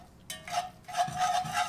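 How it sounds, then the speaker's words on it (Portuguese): Cassava purée is stirred in a pot, two bursts of close, soft scraping and squelching strokes with a brief pause between them. "vamos começar a mexê-lo até formar um ponto de purê"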